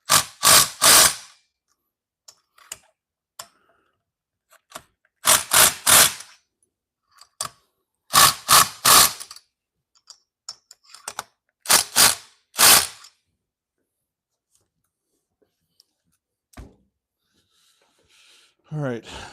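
A high-powered impact wrench works on the parts of a Stihl 026 Pro chainsaw during a piston replacement, firing in about six short, loud rattling bursts separated by quiet pauses and faint clinks.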